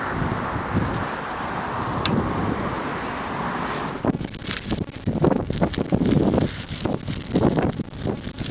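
Gusty wind buffets the microphone in uneven bursts, growing rougher and louder halfway through, with faint outdoor ambience beneath.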